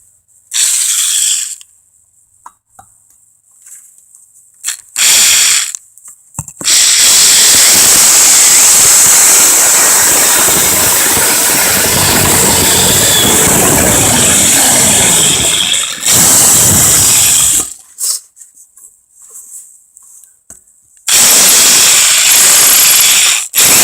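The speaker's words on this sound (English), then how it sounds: "so let's get these holes drilled." A power drill boring holes through an old drum, the bit whining in several long bursts separated by pauses, loud and close, with no talk over it.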